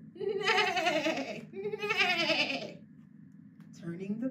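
A voice imitates a horse's neigh with two long, wavering, bleating cries, followed by a short vocal sound.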